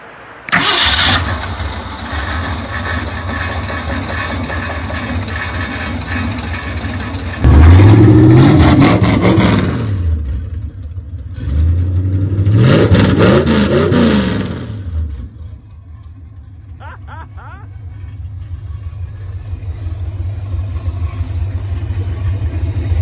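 A V8 in a Mercury Comet fitted with big headers cranks and fires up, then barks through two loud revs before settling into a lumpy, rumbling idle nearby.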